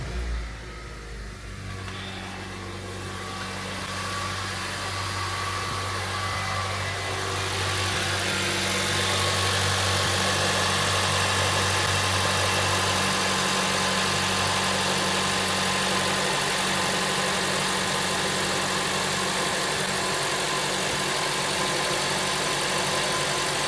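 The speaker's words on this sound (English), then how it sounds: "So I start the engine out. So cold start in the morning." A 2007 Honda CR-V engine cold-starts in the morning with a brief crank, then settles into a steady, loud idle hum that holds, with the idle note rising and smoothing slightly after several seconds, close and continuous.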